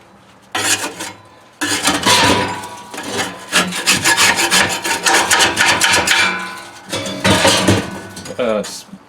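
Metal scraper grinds out the inside of a K4L drum cooker after an oil soak, with the charcoal basket set in the bottom. The scraping comes in loud, close bursts of rapid, rhythmic strokes, separated by short pauses.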